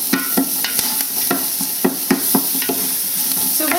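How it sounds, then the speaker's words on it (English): Onion and garlic sauté in a pan on medium-high heat while a utensil stirs them, giving a steady sizzle broken by regular scraping knocks close by, with no talk. "we have our onion and our garlic sauteing in this pan"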